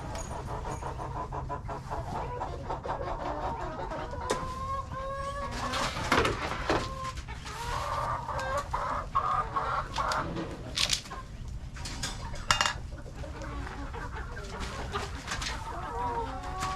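Young chickens in a coop being fed grower chick feed, clucking and chirping steadily at close range, with scattered scratching and clatter throughout.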